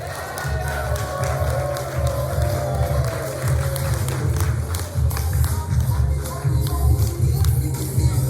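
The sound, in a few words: audience applause at an event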